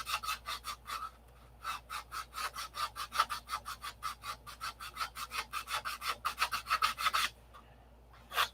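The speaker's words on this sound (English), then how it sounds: "It's gonna be a bear to get this sanded straight." Sandpaper rubs back and forth on a wooden Thunderbolt model in quick, regular strokes, about four per second, loud and close, pausing briefly near the end.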